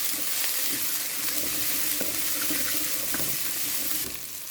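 Garlic, coriander root and pepper stir-fry in hot oil, giving a steady, close, bright sizzle with small pops and scraping stirs, then trailing off slightly at the end.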